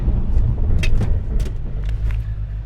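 A 992-generation Porsche 911 fitted with carbon ceramic brakes decelerates hard under full braking. A loud, steady engine and road rumble fills the cabin, with faint clicks and rattles over it and no talking.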